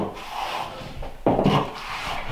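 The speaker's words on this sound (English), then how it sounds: "So I'll take that bit off the trowel." A trowel is scraped to clear torn plaster, a short close rub with one firmer swipe midway, quiet and without talk.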